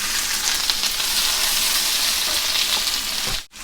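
Onions frying in hot oil with cumin, bay leaf, dried chilli and garam masala for a chicken curry, a loud, steady close-up sizzle that runs continuously and then cuts off abruptly near the end.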